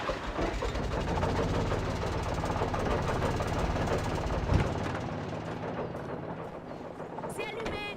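An old generator runs in the video game Alan Wake, a steady loud mechanical chugging rumble that holds throughout, with a brief thump midway and high clicks near the end.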